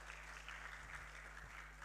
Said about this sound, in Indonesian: Boleh kasih tepuk tangan buat Tuhan Yesus Kristus?